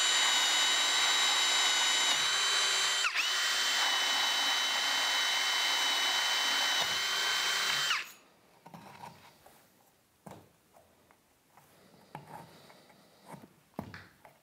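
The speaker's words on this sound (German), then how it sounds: "Deswegen bohre ich jetzt hier mit 8 mm rein." A power drill boring an 8 mm hole into plywood, whining loudly and steadily for about eight seconds before cutting off, followed by quieter scattered handling knocks and clatter.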